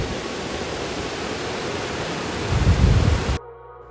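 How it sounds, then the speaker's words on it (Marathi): A waterfall at Khamboli Dam near Pune pours as a dense, steady roar of rushing water heard up close. It swells briefly louder before cutting off abruptly near the end. "इथून असं आलो ना की डिरेक्टली आपण धबधब्यावरती येतो"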